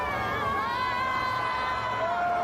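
A street crowd jeers at Trump's motorcade as it passes, a steady, loud wall of massed voices with drawn-out booing tones rising over the din, close and continuous.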